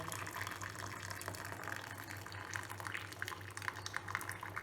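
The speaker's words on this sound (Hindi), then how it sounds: "अगर आपसे बनता है तो आप इस तरह से चावल का पानी निकाल दें।" Starchy water is drained from a pot of cooked rice, a faint steady pouring and trickling of liquid that continues throughout, with no talk.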